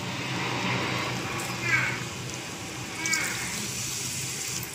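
Water is poured into a cooking pan of mutton liver gravy, giving a steady close gush and splash with a couple of brief louder surges, alone without talk.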